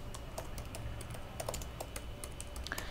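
Keys clack on a computer keyboard in irregular bursts of typing, close and fairly quiet over a low steady hum, with no voice.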